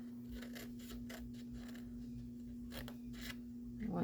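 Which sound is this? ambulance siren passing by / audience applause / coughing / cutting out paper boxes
cutting out paper boxes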